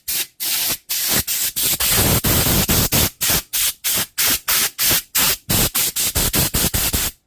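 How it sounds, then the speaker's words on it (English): A compressed-air airline blows dust out of a power tool under repair in loud, close hissing blasts, repeated in quick rhythmic bursts. "we're going to just give it a blow out with the airline."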